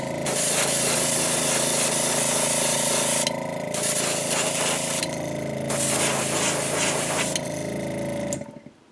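An airbrush sprays Createx Opaque Black paint onto a frog-pattern lure body, a loud, close, continuous hiss with a steady underlying hum that shifts in intensity several times before cutting off at the end.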